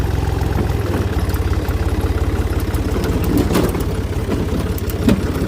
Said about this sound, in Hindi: ये मैं ट्रैक्टर पे ऊपर बैठा हूँ, तो अभी जो है ना ये मैंने गेयर लगाया है, तो ये मैं चलाने लगा हूँ।